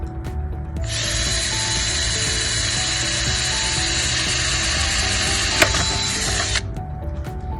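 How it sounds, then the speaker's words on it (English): A power drill bores a hole into a plastic bucket for a compost worm tower, a loud steady whirring grind lasting about six seconds before it stops, with no talking. "we're going to drill a hole into our bucket"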